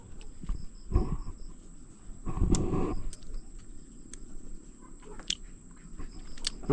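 A pig bites and chews a cucumber, giving two louder crunching bursts among quieter irregular munching, with faint clicks and background noise around them.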